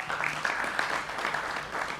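A studio audience at a televised film interview applauds to welcome a guest, a brief, dense burst of clapping that fills the whole moment at a steady level.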